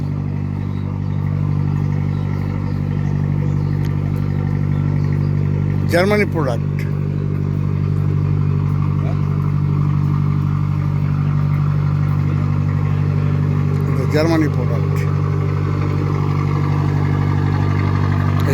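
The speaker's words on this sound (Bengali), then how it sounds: "পেছনে ইঞ্জিন" A cruise boat's engine drones steadily and loudly at the stern on a river trip toward Kochuberia, while voices talk over the constant hum.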